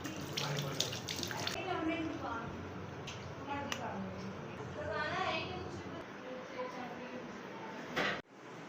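A bathroom tap runs into the sink in a steady, close stream during tooth brushing, with a voice talking over it until the water cuts off near the end.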